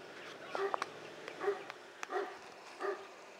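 Big dogs barking next door, faint and distant, with several short separated barks and yips spread across a quiet outdoor background.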